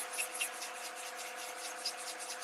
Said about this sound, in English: I'm just sanding the length of the blank, not staying in one spot for too long